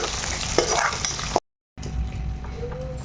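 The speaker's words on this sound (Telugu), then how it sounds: "ఇప్పుడు ఇదంతా తాలింపు అంతా బాగా కలిసేటట్టు కలిపేసుకోండి ఇలాగా" Spoon scraping and stirring a tempering for wheatgrass chutney through sizzling oil in a pan, close up, broken by a brief moment of total silence before the frying resumes.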